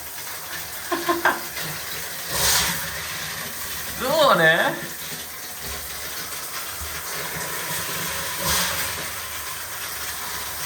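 Water sputters and splutters from a tap in irregular bursts as air clears from the pipes, with hissing spray and a few gurgling surges; a voice speaks briefly.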